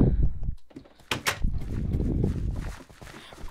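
A door swings open in a modded survival video game, a short creaking, clattering burst at close range, followed by low rumbling game ambience.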